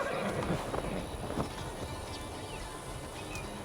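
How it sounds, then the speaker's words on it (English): A horse whinnies faintly in Assassin's Creed Valhalla amid outdoor game ambience, with some soft hoof-like thuds early and a muted background bed, the neigh low in the mix. "Well, I thought that was my horse, but apparently not"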